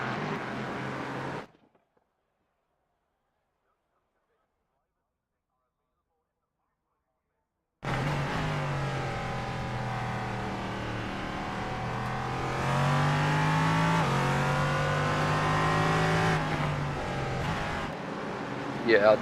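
Simulated LMP3 race car engines in iRacing at Barcelona rev and climb through the gears, a loud steady engine whine with rising and falling pitch, cut by a long stretch of silence, and voices talk over it.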